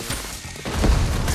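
A grenade blast in Fortnite, a muffled low boom rising near the end of a short, busy game soundscape.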